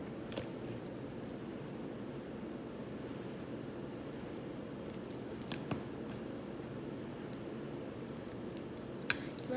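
A hand kneads sticky homemade slime, producing soft, continuous squelching and squishing close up, with a few faint sharper clicks and no talking.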